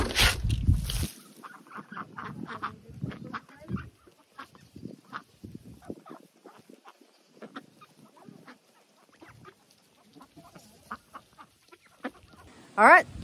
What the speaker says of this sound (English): The ducks want to be fed.